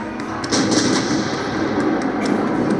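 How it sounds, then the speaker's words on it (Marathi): Signal cannon fire from Vishalgad fort booms as a sound effect, a loud sustained blast with rumbling roll and scattered sharp cracks layered over it, continuing without pause. "त्यांनी इशारतीच्या तोफा वाजवल्या"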